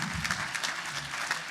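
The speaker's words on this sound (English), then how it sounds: "Give them all a big round of applause" Audience applause at an education technology conference fills the room, a steady wash of many hands clapping at moderate volume, with no voices over it.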